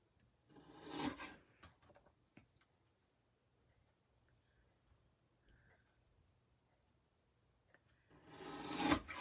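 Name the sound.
mini trimmer trimming pumpkin craft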